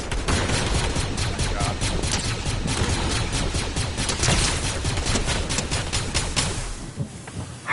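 Gunfire crackles in Fortnite in a rapid, continuous burst of shots, loud and close, rattling steadily for several seconds before cutting off near the end.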